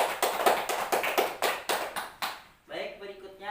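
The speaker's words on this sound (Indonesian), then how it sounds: "Tepuk tangan dulu untuk kita semua." A small group in a meeting session clapping hands together in a rhythmic series of about ten distinct claps, fairly close, followed by a voice starting to speak as the clapping ends.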